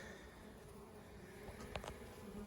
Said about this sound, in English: right there are the bees